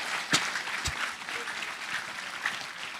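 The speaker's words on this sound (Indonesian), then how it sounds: "Tepuk tangannya kurang kuat." Applause from an audience at a mindfulness festival talk, a soft, steady patter of clapping at moderate distance, fairly thin and subdued, with a few sharper claps standing out early on.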